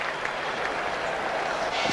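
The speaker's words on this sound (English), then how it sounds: "I can hear a ripple of applause there" A ripple of crowd applause rolls around Eden Gardens during a cricket match between India and Pakistan, a broad, steady clapping from the distant stands with commentary voices mixed underneath.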